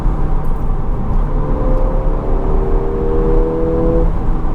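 A Ford Fiesta ST engine drones steadily from inside the car while driving, a loud constant hum with a faint rising whine as it accelerates.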